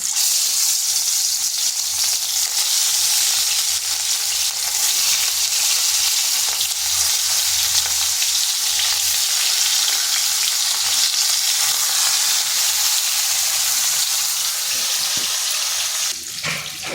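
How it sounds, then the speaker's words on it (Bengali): Loud, continuous sizzling of fish frying in hot oil in a kadai, a dense steady hiss that barely changes for the whole stretch. "ওদিকে মাছটা ভাজা হচ্ছে"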